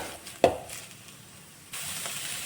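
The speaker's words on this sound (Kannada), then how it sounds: "ಮೀಡಿಯಮ್ ಫ್ಲೇಮಲ್ಲಿ ಇಟ್ಕೊಂಡು ಚೆನ್ನಾಗಿ ಫ್ರೈ ಮಾಡ್ಕೊಳ್ತಾ ಇದ್ದೀನಿ." Onions fry in a pan over a medium flame for raw banana manchurian: a single sharp clatter, then a quiet lull, then a steady soft sizzle that rises and carries on to the end.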